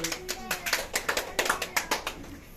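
Members at a team meeting applaud with a short burst of scattered hand clapping, a dozen or so distinct claps in an uneven rhythm from a small indoor group, with faint voices.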